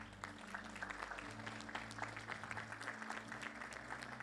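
A church congregation at a Sunday family meeting gives faint, distant applause for a women's cell group, with a soft patter of clapping over a low steady hum.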